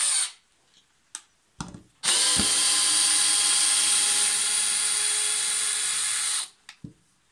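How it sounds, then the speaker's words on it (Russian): A brushless cordless screwdriver gives a few brief trigger blips, then spins up and runs steadily with a loud, high motor whine for about four seconds before stopping, followed by a couple more short bursts. "Бесщеточный шуруповерт."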